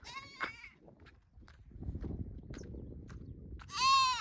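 A goat bleats twice, a loud wavering cry at the start and another near the end, with quieter low shuffling and handling noise in between.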